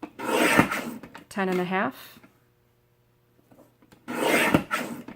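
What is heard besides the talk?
trimming narrow strips with a trimmer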